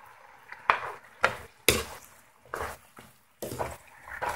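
Chicken wings with pineapple being tossed in hot sauce in a home kitchen, five or six separate sloshing, clattering tosses spaced about half a second to a second apart, close and moderately loud.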